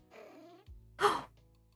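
A pet cat in the video game Sun Haven gives a short purr-like trill followed by a brief louder meow, close and clear against quiet game background.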